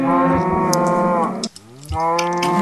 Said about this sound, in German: Kleine Kuh, komm her